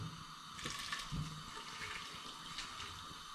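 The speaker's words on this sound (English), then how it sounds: "I'm going to add some water," Water splashes and trickles steadily into a pan on an Omnia stove, fairly quiet and close, with no talking.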